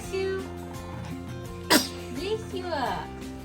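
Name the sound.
sneeze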